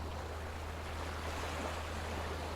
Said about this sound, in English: Waves are rolling up from the ocean, gently caressing you.